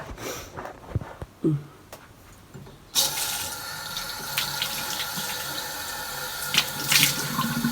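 A sink tap is turned on while washing a face. A few quiet knocks and rustles come first, then the water gushes in a steady, close rush that runs to the end.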